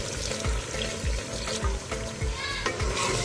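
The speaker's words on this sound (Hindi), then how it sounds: "अब हम इसमें आधा कप पानी का ऐड करेंगे ताकि सब्ज़ी हमारी अच्छे से गल जाए।" Half a cup of water goes into a pan of simmering brinjal and arvi curry, a loud sizzling splash with repeated low bubbling pops over a dense hiss, close up.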